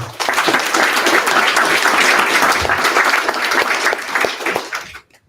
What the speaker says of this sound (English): Round of applause for all three of them